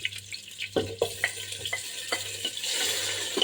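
Tomatoes tossed into a frying pan and stirred produce a run of sharp utensil scrapes and knocks over a soft sizzle, which swells into a louder, steadier frying hiss toward the end, with no talking.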